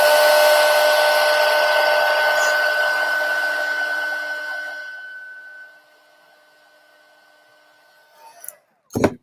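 A heat tool blowing on embossing powder for stamped card crafting: a steady, high whirring blast that fades out after about five seconds, followed by quiet and a couple of brief clicks or knocks.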